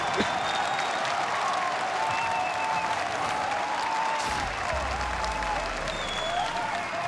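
A crowd at the Rocket League RLCS World Championship keeps up loud, sustained applause and cheering throughout, a dense, continuous roar with a few whistles rising above it.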